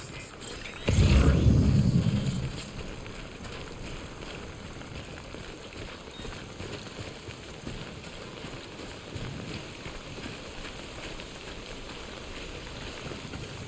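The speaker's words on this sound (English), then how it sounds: "Okay, back in the rain." Steady rain falling in the video game Death Stranding, a continuous soft hiss of drops with a brief louder burst near the start, playing on its own with no talking.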